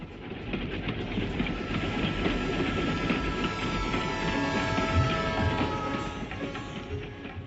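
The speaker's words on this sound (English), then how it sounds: "Children, let's watch the train." Train passing on rails, a continuous loud rumble with rhythmic clickety-clack of wagons on the track, swelling and fading slightly, with no voices.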